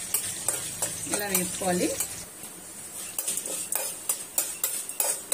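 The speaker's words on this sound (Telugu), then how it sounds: "ఇలా ఎర్రగా మినపప్పు వచ్చిందాక వేసుకోవాలండి, మంచి వాసన వస్తుంది." Urad dal frying in a pan with a faint sizzle, stirred so a spoon scrapes and clicks against the metal in irregular taps, while someone speaks briefly over it.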